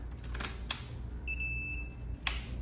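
A Razor MX350 electric scooter controller beeps at key-on, one steady high-pitched electronic tone lasting about half a second, framed by a couple of sharp clicks against low background hum.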